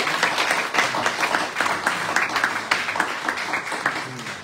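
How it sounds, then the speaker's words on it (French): A lecture audience at a secular café conference in Brussels applauds, a dense steady wash of many hands clapping close by for several seconds, with no talking. "Il faut déjà applaudir."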